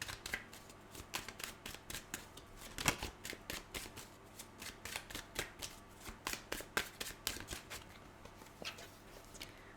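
A deck of oracle cards is shuffled close up, a quick run of crisp riffling flicks repeating in an even rhythm, with no talking.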